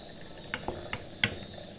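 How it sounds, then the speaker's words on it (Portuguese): Bredo greens stirred in a hot pan, a few short scraping clacks of a utensil against the pan over a low sizzle, close and alone. "Agora eu vou estar misturando aí."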